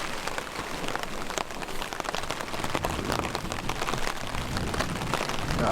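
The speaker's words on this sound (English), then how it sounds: "when you're out in the middle of a rainy, swampy mess" Steady rain falls at a swampy campsite, a continuous dense patter of drops on surfaces, fairly soft and even throughout with no voices.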